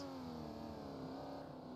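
A Group 5 race car in a racing game at Monza, with its engine droning at a steady, strained pitch that barely climbs, close and loud, with no voices.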